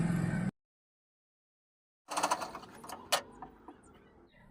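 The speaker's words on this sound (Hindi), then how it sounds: "मैं अब इसके ऊपर एक सिलाई डाल दूंगी ताकि ये भी अच्छे से बैठ जाए और मजबूती भी हो जाए" Electric sewing machine stitching a seam on a blouse during an alteration, a short burst of whirring, then a pause and a lighter run of clicking, ratcheting mechanism sounds close by.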